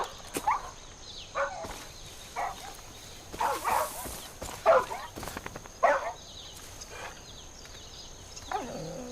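Boomer the dog barks in Far Cry 5, several short, moderately loud barks and whimpery yelps spaced a second or two apart over quiet outdoor ambience.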